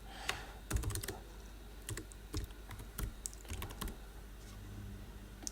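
Computer keyboard typing while a form is filled in, irregular bursts of close keystrokes with short pauses, steady and fairly quiet, with no voices.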